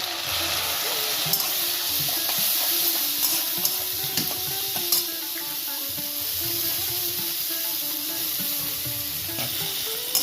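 Chopped banana flower goes into a hot pan and fries for Bengali mochar ghonto, giving a loud steady sizzle and hiss with occasional stirring clinks throughout.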